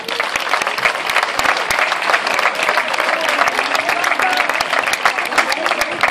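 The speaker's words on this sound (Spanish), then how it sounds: "Fuerte el aplauso." Outdoor crowd at a town festival flag-raising ceremony in Barrial de Gáldar claps vigorously and continuously, dense overlapping applause at close range.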